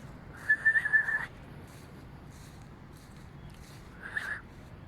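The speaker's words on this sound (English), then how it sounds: "Can't bloody whistle." A short, breathy whistle rises briefly, followed by a pause and a second weaker attempt, faint and close, over quiet background hiss.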